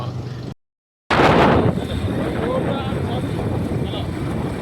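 A motorcycle rides through a jungle, its engine a rough steady drone buffeted by wind noise. The sound cuts out briefly early on, then returns loud and close, with a voice talking over it.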